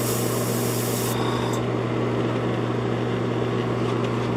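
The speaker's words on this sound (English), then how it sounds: "I'm going to go ahead and experiment with my new airbrush and see how it turns out." A new airbrush sprays paint onto a moon buggy model with a steady broadband hiss. A constant low hum runs underneath, and the hiss keeps going without a break.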